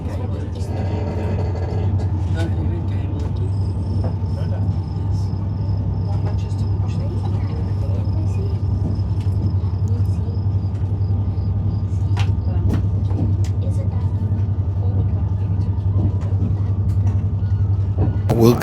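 Steady road and engine rumble from a car cruising at about 77 mph, nearly 80, lasting throughout, fairly loud and continuous, with a few faint clicks and knocks over it.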